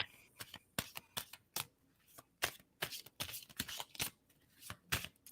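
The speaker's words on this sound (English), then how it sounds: "I'm going to stop shuffling." Tarot cards shuffled repeatedly in quick riffling bursts, close up and crisp, with short pauses between shuffles.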